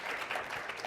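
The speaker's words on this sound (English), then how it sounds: "round of applause for those folks" An audience applauds panel guests, state senator and representative, at an education panel; a steady, continuous wash of clapping fills the brief moment without speech.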